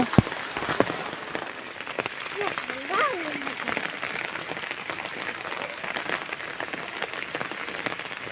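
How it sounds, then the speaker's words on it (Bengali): Heavy rain falling steadily outdoors, a dense continuous patter of drops on surfaces, with a faint distant voice partway through. "বৃষ্টি ভালো জোরেই হচ্ছে"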